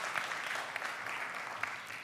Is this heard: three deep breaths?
no